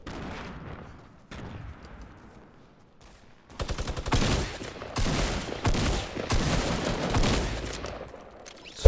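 Rapid bursts of Fortnite gunfire, loud and dense, firing in clusters of shots after a quieter stretch at the start.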